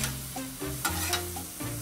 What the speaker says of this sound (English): Stir it up, have fun. You can see the sizzle